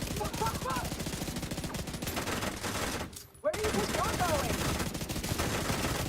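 Enemy gunfire in a shooter video game: sustained, rapid automatic fire rattling continuously and fairly close, breaking off briefly around the middle before resuming.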